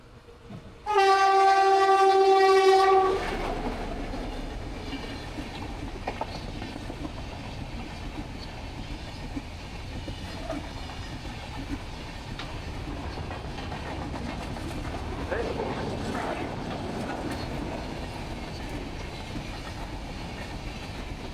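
A train horn blasts loud and close for a couple of seconds near Vinhere station in the Konkan, then a steady rolling rumble of the passing train carries on to the end.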